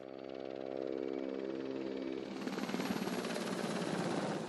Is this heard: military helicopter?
yes